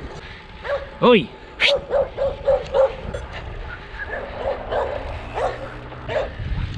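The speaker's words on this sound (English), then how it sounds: "there's an angry dog welcoming me to town." An angry dog barks at a newcomer arriving in a small town, a burst of loud, close yaps and woofs in a quick run of five or six, with a man calling out briefly over the barking.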